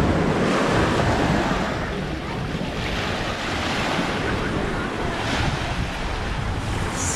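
Waves break and wash continuously along Es Canar beach, a full, steady roar of surf mixed with wind rumbling across the microphone, with no voices.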